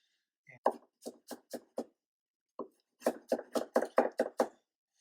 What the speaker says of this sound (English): the garlic, I like to mince up in this dish